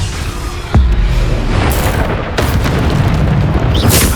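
A Bombarda spell explodes in Hogwarts Legacy with a loud, sudden boom that rolls into a sustained, rumbling blast. More bursts and crackling follow over continuous game noise.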